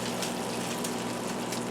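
Water poured into a pan of sautéed okra with corn on a stovetop makes a steady, close hiss and gush lasting the whole moment, with no voices.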